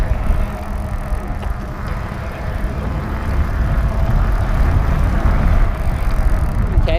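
Rad Power Bikes RadRover electric fat bike on assist level 1, its hub motor giving a steady low hum and rolling rumble that builds slightly, with wind noise throughout and no talking.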